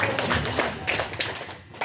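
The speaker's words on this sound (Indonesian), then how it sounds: "Tepuk tangan dulu untuk profesi dari Wale." Brief light clapping from wedding reception guests honoring the bride's profession, a loose patter of hands that is moderately loud and ends quickly.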